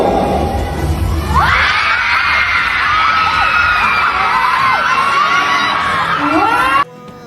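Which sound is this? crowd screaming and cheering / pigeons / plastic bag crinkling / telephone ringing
crowd screaming and cheering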